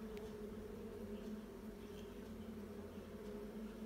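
Honeybees inside an observation hive give a steady, low droning hum throughout, with fairly few bees present and no talk.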